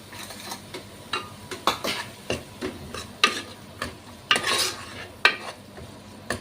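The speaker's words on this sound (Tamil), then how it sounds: "இதை நல்லா மிக்ஸ் பண்ணிடுங்க" Mutton paya with yogurt and tomato being stirred in a pot, with about a dozen distinct scraping and clinking strokes of a utensil against the pot in a loose rhythm over a faint simmer, close up and alone.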